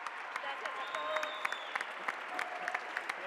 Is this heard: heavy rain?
no